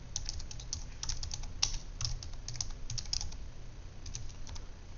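Rapid, irregular clicking of keys on a computer keyboard as a number is typed in, close and clear, with a steady low room hum underneath.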